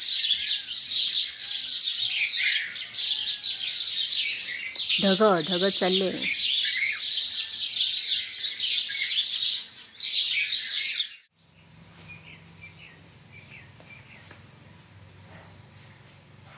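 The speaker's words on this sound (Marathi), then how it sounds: "पक्ष्यांचा चौसट कलकलाटमध्ये आज सोमवार उघडलेला आहे." Loud, dense birdsong chirps and twitters continuously for about eleven seconds, then cuts to a quieter low hum; a person speaks briefly in between.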